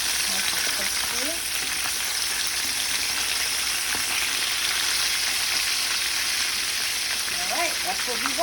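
Chicken pieces deep-frying in hot oil for crispy Puerto Rican fried chicken, a loud, steady, close sizzle that runs unbroken throughout, with faint stirring and clatter mixed in.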